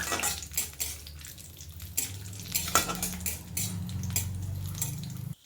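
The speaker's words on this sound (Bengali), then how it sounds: "কাজু বাদামটাকেও হালকা ফ্রাই করে নেব" Cashew nuts frying lightly over low to medium heat in a pan for papaya pulao, a steady soft sizzle with frequent scraping and clinks of a stirring spoon against the pan.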